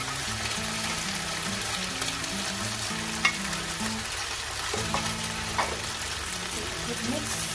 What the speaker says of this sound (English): Sauteed cucumber and ginger.